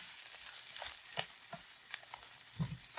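Tomato is stirred into vegetables in a large skillet with a utensil, giving soft scraping and faint sizzling over a few seconds. The sound is quiet and close, with no talking.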